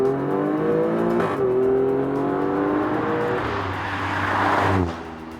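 An Alfa Romeo Stelvio Quadrifoglio turbocharged SUV accelerates hard, its engine note climbing through rising harmonics with a gear change partway, loud and close before easing off at the end.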